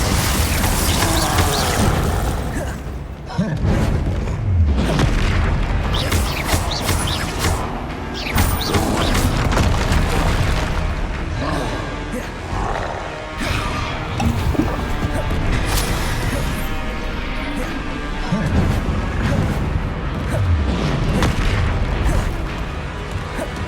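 A Bombarda blasting spell explodes in Hogwarts Legacy with loud booming bursts over a dense, continuous bed of clanking, creaking game effects and music.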